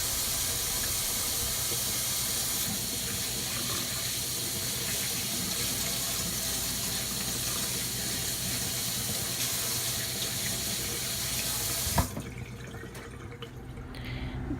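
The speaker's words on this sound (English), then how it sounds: "please, when you are cooking for others, wash your hands" Water runs steadily from a kitchen tap while hands are washed, a continuous close splashing rush that cuts off abruptly near the end, leaving quiet room tone.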